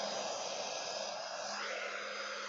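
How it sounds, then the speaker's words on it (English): A strong blow dryer drying alcohol-based paint gives a steady, loud, close whooshing roar that holds without pause for the full stretch, its pitch shifting slightly midway. "my blow dryer is too strong"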